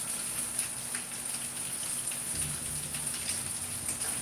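Rain falls outside near large glass doors, a steady, soft patter and hiss of drops with a faint low rumble beneath, continuous and fairly quiet throughout.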